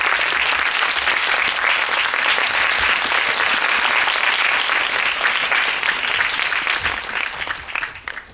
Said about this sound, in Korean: 다시 한번 박수를 쳐드릴게요